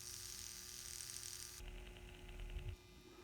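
A refurbished Atlas/Rivarossi N scale locomotive motor runs with a steady, quiet electric whir and a faint hum, its pitch and texture shifting partway through before it stops just before the end.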